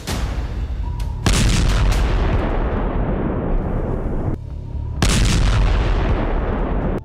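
A powerful blast of the kind that threw office workers several feet: two heavy, roaring booms, each with a long rumbling tail and wide noisy spread, the second arriving after a brief quieter gap, with no voices.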